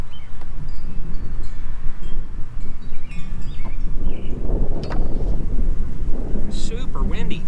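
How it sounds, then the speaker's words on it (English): Strong wind buffets the microphone with a steady low rumble and roar during a beehive check, loud and continuous, with some faint background sounds mixed in. "Super windy."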